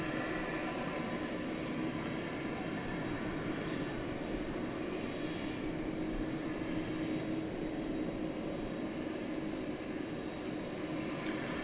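Airplane taxiing across DFW Airport at night, a faint, distant and steady engine hum with low rumble that stays level throughout, with no voices.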